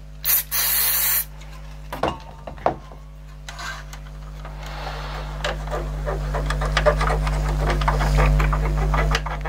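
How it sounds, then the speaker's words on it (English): Contact cleaner sprayed in a loud hissing burst onto the dirty tape heads of a 1998 Kenwood stereo, followed by clicks and faint handling noise over a steady low hum. "Get a bit of contact cleaner in there."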